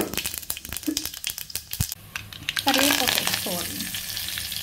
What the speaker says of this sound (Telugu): తాలింపు చిటపడా అన్నాక కరివేపాకు వేసుకోవాలి